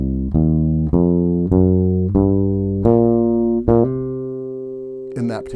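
An ascending blues scale played note by note on a bass guitar, with the added flat fifth: eight clear plucked notes, each one sustained, close and loud with no talk, ending in a brief noisy touch.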